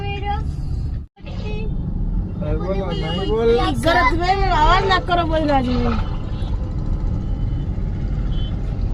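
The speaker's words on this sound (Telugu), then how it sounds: "ఎంత ట్రాఫిక్ ఉందో చూడండి." Busy street traffic in Suryapet during the Rakhi festival, with a steady roar of trucks, cars, buses and bikes nearby, sustained engine noise and a passing horn or siren tone while people talk over it.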